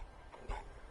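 Dogmeat, the dog in Fallout 4, lets out a short, faint whimper with a soft yip midway through, heard alone against a quiet game background.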